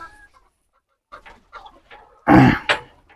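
A chicken gives a loud burst of clucking, followed by a second short squawk, after a stretch of soft, scattered clucks.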